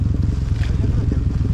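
Enduro motorcycle engine running close by, a loud throbbing low rumble with a steady pulse, brief and continuous.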